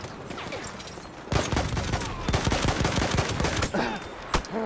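Battlefield 1 gunfire erupts in dense, rapid bursts of loud automatic shots with scattered distant cracks and battle noise, building to sustained firing partway through.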